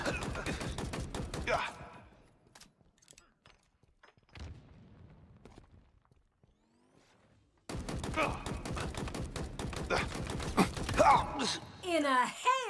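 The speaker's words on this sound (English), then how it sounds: "In a hail of gunfire." Rapid bursts of gunfire in Halo Infinite multiplayer crackle in two loud stretches, separated by a quieter lull with scattered shots and effects.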